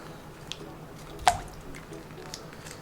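Liquid is squeezed out during sweet potato cheesecake prep, giving one short wet squish with faint dripping around it, close and fairly quiet.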